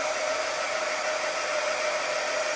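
A hair dryer runs steadily close by, drying paint on a freshly lettered welcome address sign, a continuous loud whooshing hum with a faint motor whine and no voices.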